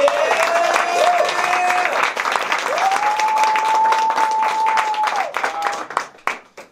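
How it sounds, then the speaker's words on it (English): An acting studio showcase audience gives loud, dense applause, a crowd clapping steadily with a sustained whistle or cheer riding over it, before the clapping breaks into a few final scattered claps. "give these guys another big round of applause"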